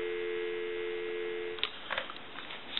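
A steady telephone dial tone hums for a moment on a Northern Electric Galion rotary desk telephone, then cuts off into faint clicks and line noise.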